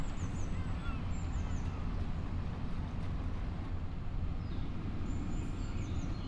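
Seagulls call in Farming Simulator 25, their brief cries rising over a steady low ambient rumble of the game world.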